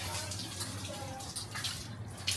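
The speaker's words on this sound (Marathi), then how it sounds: "अरे पाणी चालू आहे ना" Tap water running at home while utensils are being washed during a house clean, a continuous close splash and trickle with faint drips and a little background noise.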